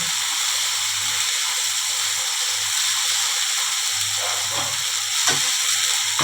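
A vegetarian potato and pointed gourd curry with cashew paste sizzles in a pan as it is stirred, making a continuous close hiss with a few soft scraping stirs.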